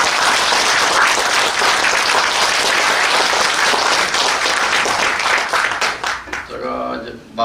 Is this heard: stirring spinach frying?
no